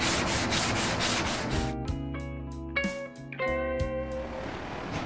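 Hand sanding the finish of a 1964 ES 335 guitar build with 150 grit paper, heard as steady rubbing strokes at first, then giving way to sustained tonal ringing and clunks, with no talking.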